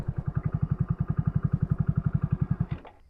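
A motorcycle labors along in first gear on a rough track near a hidden waterfall in Rajasthan, its engine thumping in a fast, even pulse close by before cutting off abruptly.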